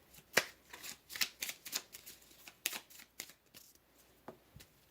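Tarot cards being shuffled at close range in quick, irregular bursts of crisp riffling and slapping, several clusters over a few seconds with quiet gaps between them, no talking.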